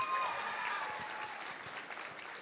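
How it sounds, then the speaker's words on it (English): School assembly audience clapping in a hall during a Black History Month program, a dense wash of applause that starts strong and gradually tapers, with a faint voice or tone briefly audible early on. "we can clap it up for that."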